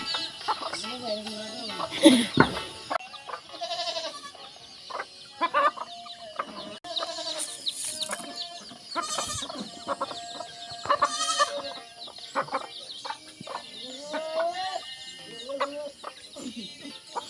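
Several chickens on a farm cluck and squawk close by in irregular bursts, with occasional louder cries over quieter background noise.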